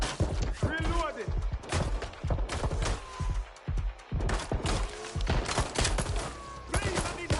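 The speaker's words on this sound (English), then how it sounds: "Shots fired!" Rapid bursts of gunfire from Watch Dogs: Legion, sharp repeated shots and volleys in an irregular rhythm, loud and close, with game voices shouting in between.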